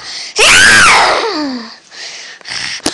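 A person voicing a toy pet character lets out a long, loud, high-pitched squealing scream that rises and then slides downward over about a second, followed by softer breathy sounds and a brief sharp click near the end.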